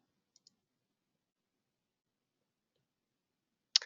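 Computer mouse clicks while confirming a record restriction in GDPR data-management software: two faint, quick clicks near the start, a long silence, then one sharper, louder click at the end.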